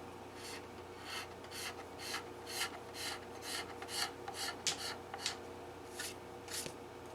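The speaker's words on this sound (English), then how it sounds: "Little wet sand action for you here." Wet sanding on the lacquer finish of a Gibson Midtown guitar, a steady run of soft rasping strokes in a quick back-and-forth rhythm, close and fairly quiet.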